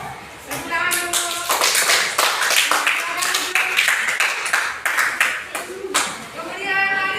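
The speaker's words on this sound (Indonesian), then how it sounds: "Tepuk tangan dulu." Elementary school children in a classroom in Sorong, West Papua clap their hands together, a lively patter of close and distant claps, with voices talking over and between them.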